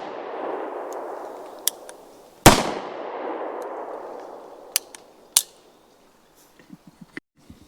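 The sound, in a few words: Bond Arms 9mm Texas Defender derringer gunshots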